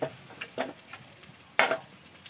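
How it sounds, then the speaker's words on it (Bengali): Finely chopped onions are tipped into a hot pan and stirred as they fry toward a reddish brown. Several close, distinct stirring scrapes rise over a soft, steady sizzle, with no talking. "পেঁয়াজটা দিয়ে দিয়ে একটু নাড়িয়ে দেবো আবার পেঁয়াজটাকে এবারে লাল লাল করে ভাজতে হবে"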